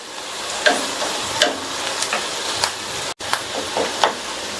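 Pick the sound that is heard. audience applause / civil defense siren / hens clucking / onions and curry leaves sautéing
onions and curry leaves sautéing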